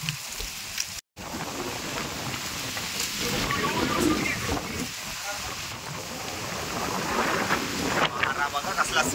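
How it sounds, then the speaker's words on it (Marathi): Strong gusting wind from a sudden storm buffets the microphone with a continuous loud roar and rumble, and people talk over it. "वादळ बघा कसला सुटलेला आहे"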